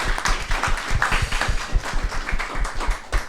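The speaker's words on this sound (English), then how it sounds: "can we just give a round of applause to the women making moves in the industry?" A music industry seminar audience breaks into applause, a continuous close patter of claps with some low thumps running throughout.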